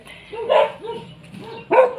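A dog barks in short, loud bursts, two strong barks with softer yelps between, close by on an outing where it gave chase.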